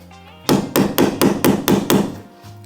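Seven sharp, evenly spaced knocks of a screwdriver handle striking a nail, loud and close, with a quiet pause before and after.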